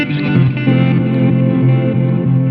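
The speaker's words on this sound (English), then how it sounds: "that reverse delay is getting reverb after it comes out" Electric guitar played through an EarthQuaker Devices Avalanche Run with fully wet reverse delay feeding into reverb, giving loud, swelling washed-out tones that blend into a sustained echoing haze with no dry attack.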